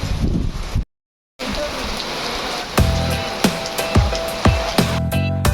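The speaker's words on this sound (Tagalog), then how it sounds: "may bagyo yata at ang sama ng panahon, no?" Heavy storm rain pours over a mountain view deck where cyclists have sheltered during a ride in Sariaya, Quezon, a dense steady hiss broken by a brief dropout and several dull knocking thumps.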